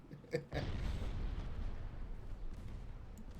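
One deep, rumbling boom from the 5-inch naval guns of a Russian warship in Ultimate Admiral: Dreadnoughts. It sounds fairly far off and fades into a sustained low roar, with no talk heard.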